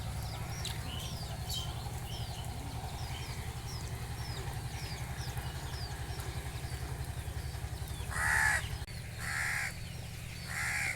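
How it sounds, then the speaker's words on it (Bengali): Crows caw repeatedly among other birdsong outdoors near a river as light rain falls, with a low engine drone from a passing trawler underneath and a few louder bursts of calls near the end. "চারিদিকে পাখির শব্দ"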